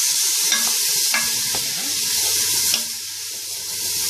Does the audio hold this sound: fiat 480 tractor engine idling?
no